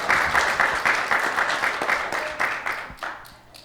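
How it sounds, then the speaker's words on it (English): An indoor audience at a Martin Luther King Jr. art contest applauds its winners with steady, dense clapping that slowly thins and fades over a few seconds. "Let's give one more round of applause for all of our winners, all of our participants."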